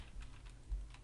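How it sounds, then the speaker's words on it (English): Typing on a computer keyboard, a few soft scattered key taps close by over a low steady hum, brief and quiet with no talking. "I'm just gonna type in something stupid like"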